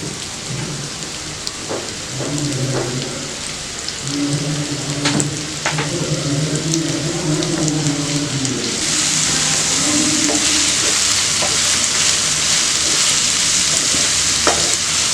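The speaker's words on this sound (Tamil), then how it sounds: "வெங்காயம் நல்லா வதங்கட்டும்." Onions sautéing with salt in a pan for mutton chukka fry, a steady crackling sizzle filling the whole stretch, with some stirring scrapes and clinks and a hum of tonal noise early on, no one talking.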